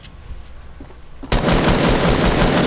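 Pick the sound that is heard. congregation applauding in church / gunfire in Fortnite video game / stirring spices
gunfire in Fortnite video game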